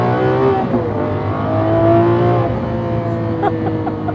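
The engine of a Lamborghini Aventador LP780-4 Ultimae roars loudly and continuously, its pitch rising and dropping as hard gear shifts interrupt the climb, with no speech over it.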